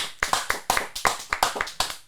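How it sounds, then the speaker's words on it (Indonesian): Scattered clapping from a small audience at a casual talk show applauding a doctor guest, about a dozen sharp, uneven claps in a loose rhythm, fairly close and alone without talk. "Sekali lagi tepuk tangan dulu dong buat Dr."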